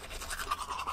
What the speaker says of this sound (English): Grab a toothbrush, brush your teeth like you do in the morning.